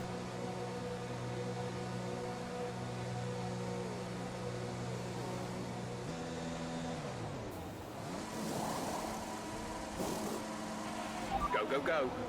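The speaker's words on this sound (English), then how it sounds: "Enjoy the pit stop" In F1 2021, a race car sits through a pit stop, its steady engine drone holding level before shifting and rising, with a brief clatter of activity near the end.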